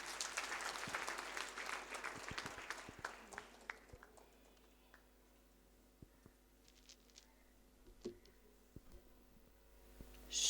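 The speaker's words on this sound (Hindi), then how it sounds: "एक बार श्रद्धेय बापू के लिए जोरदार तालियां।" A crowd at a Morari Bapu gathering at Mahila Mahavidhyalay in Jaipur gives him a burst of applause. It starts loud and dense, then thins out over several seconds into scattered claps and quiet.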